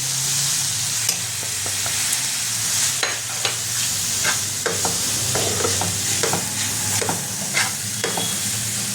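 Chicken coated in Kashmiri red chilli powder, garam masala and cumin is stirred in a frying pan, a steady loud sizzle running throughout with repeated scraping strokes of the spoon.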